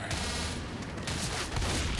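Gunfire from a shotgun in the Left 4 Dead zombie game, heard as a dense, continuous barrage of blasts and booms mixed with other in-game battle noise, loud and sustained for the whole stretch.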